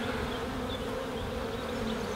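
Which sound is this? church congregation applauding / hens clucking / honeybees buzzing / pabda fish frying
honeybees buzzing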